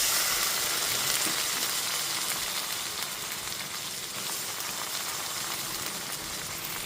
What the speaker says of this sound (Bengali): এরপর এতে সমস্ত সেদ্ধ করে নেওয়া মুসুর ডালটাকে দিয়ে দিচ্ছি।